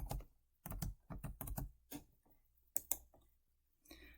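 Computer keyboard being typed on in short bursts of quick, close key clicks, separated by brief pauses, entering a project name.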